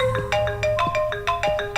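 Mobile phone ringtone playing a repeating electronic melody of bright, evenly spaced tones, steady and fairly loud.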